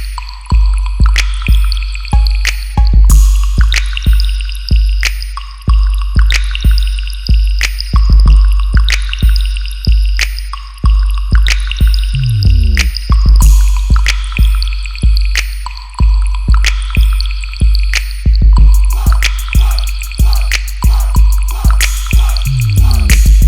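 A water spray bottle mists short hair in rapid repeated bursts, a series of close, sharp spritzes that fall into a quick rhythm with brief pauses between the groups.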